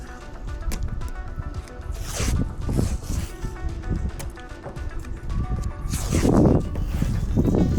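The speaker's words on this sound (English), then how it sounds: "you do have to tape it according to the instructions, like that." Adhesive tape ripping off the roll and being pressed onto a real carbon fiber spoiler on a 2025 Tesla Model Y in a garage, with two loud, raspy tearing bursts over a low, busy background.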